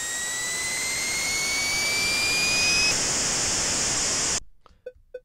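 Plane engine noise from the Commodore 64 game Raid Over Moscow: a loud, steady synthesized roar with rising whining tones that cuts off abruptly near the end, followed by a few faint blips.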